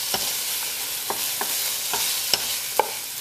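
A spoon stirs Kashmiri chili powder and spices into lamb for a jalfrezi, giving steady close scrapes and light clinks against the pan at a loose, regular pace over a faint sizzle.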